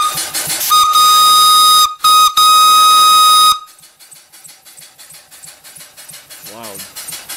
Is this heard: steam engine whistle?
yes